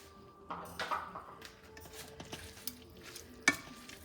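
Spaghetti being stirred in a pan with sweet Tropea red onions and a splash of pasta water, giving soft scraping and gentle sizzling with a few light clinks of utensil against the pan, close and moderately quiet.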